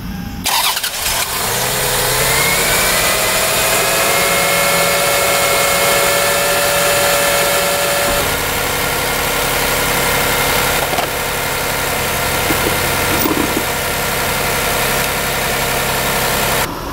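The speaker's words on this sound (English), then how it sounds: "The car is idling beautifully, so we're going to go ahead and say we fixed it." A 2002 Lexus RX300 engine, just serviced with a cleaned idle air control valve, cranks and catches, then settles into a steady, loud idle that runs on alone with constant vibration.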